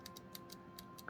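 Faint, rapid clicking inside a faulty Xbox One controller, a steady run of small ticks at a quick, even pace, heard alone in a quiet room.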